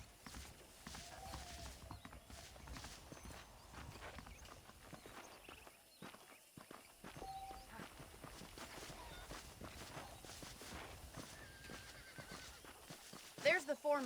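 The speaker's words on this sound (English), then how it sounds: "The horses are saddled up over here." Saddled horses in Red Dead Redemption at Fort Mercer clop their hooves at a walk, with occasional whinnies and snorts mixed in, heard under ongoing male dialogue.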